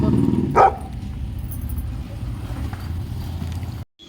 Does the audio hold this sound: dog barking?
yes